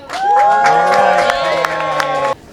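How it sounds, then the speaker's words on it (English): Audience applause with cheers and whoops at a BET awards brunch, loud and sustained for about two seconds before cutting off, with shouting voices mixed into the crowd noise. "give a round of applause for the Social Justice Economic Development Award"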